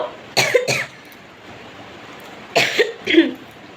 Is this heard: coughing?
yes